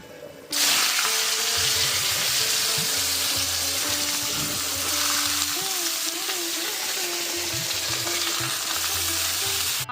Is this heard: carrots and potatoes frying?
yes